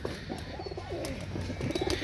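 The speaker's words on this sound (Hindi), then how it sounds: "तो ये देखें कबूतर, क्या कबूतर है यार, फटक के कबूतर हैं सारे" Highflyer pigeons coo softly in low, throaty calls that repeat over a steady background hum.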